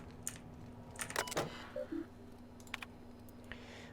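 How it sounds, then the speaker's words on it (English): Keyboard typing in The Outer Worlds game: a few short bursts of clicky keystrokes, quiet and close, with brief gaps between clusters and a faint steady hum underneath. "Is this what the freebooters have been typing?"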